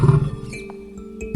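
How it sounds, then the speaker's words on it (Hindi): An angry lion's roar used as an animation sound effect in a jungle story, a deep rumbling growl up front that fades into a sustained, layered tone with a fresh burst at the end. "शेर ने गुस्से से दहाड़ लगाई।"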